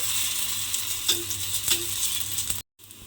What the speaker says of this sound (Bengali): এবার এগুলোকে তুলে এইভাবে অন্য পিঠটাও কিন্তু লাল করে ভেজে নিতে হবে